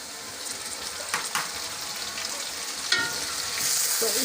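Tomatoes and mixed vegetables frying in a pan for a vegetable pulao, with a steady broadband sizzle, a few stirring scrapes, and a louder burst of hiss near the end.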